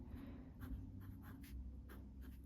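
A TWSBI Mini fountain pen with black ink scratches softly across paper in short, uneven strokes, very close and faint over a low room hum.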